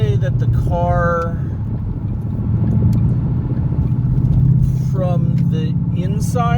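A 2014 Ford Mustang GT with a fully replaced exhaust, heard from inside the cabin, gives a steady low engine drone throughout while someone talks over it at intervals.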